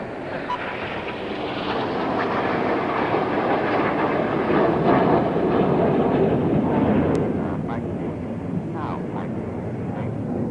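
Red Arrows jets fly a display at the Eastbourne International Airshow, trailing coloured smoke as they roll in formation. Their engines make a loud, broad roar that holds steady and then slowly eases off.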